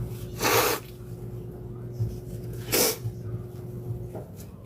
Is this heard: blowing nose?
yes